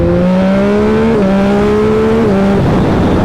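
A flashed 2021 Yamaha MT-09 motorcycle accelerating hard, its loud engine note rising in pitch through two quick upshifts before easing off, close and alone.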